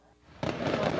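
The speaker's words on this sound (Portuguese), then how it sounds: "Foram lançados rojões" Fireworks rockets set off by football fans invading a club's grounds, a sudden burst of loud crackling and popping that erupts after a quiet moment and keeps going densely, with no voices.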